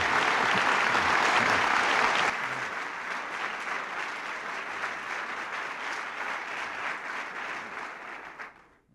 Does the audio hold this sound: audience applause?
yes